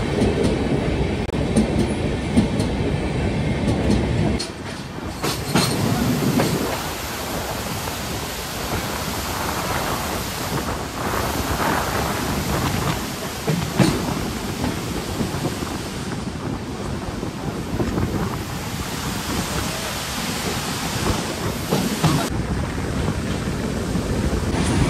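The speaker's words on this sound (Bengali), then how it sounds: "আমাদের ট্রেন এখন ফারাক্কা ব্রিজ ক্রস করছে" A Humsafar Express passenger train rolls across the Farakka bridge at dawn, a steady loud rumble of wheels and carriages with rattling bursts and no talking.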